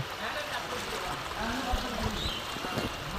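Floodwater rushes across the Raozan school field after rain, producing a constant churning wash with a voice talking over it partway through.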